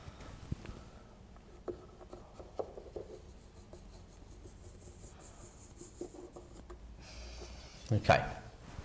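Pen scratching on paper to sketch the straight asymptote lines of a hyperbola graph, a series of soft, close rubbing strokes with faint taps, ending in a louder scrape; no talk.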